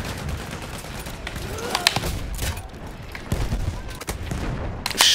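Shotguns fire in the online shooter Battlefield 1 on Xbox One, several loud booming blasts mixed with other gunfire, repeating irregularly over a few seconds with no talk.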